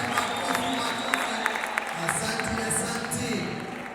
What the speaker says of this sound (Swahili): tumchapie makofi